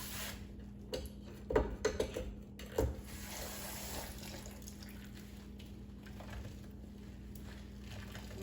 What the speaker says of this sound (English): Just getting the water all up in there.